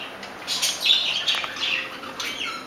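Birds outdoors squawk and chirp in several bright bursts, some sounding like flapping or brief calls, moderately close and with no one talking.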